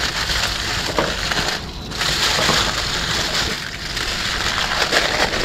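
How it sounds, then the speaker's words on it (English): Aluminium foil crinkles and crunches loudly as a sheet is folded into a parcel, a continuous close rustling that barely lets up. "I'm gonna get another sheet of alfoil here. We'll just fold all this up to make sort of a bit of a plate and a pocket."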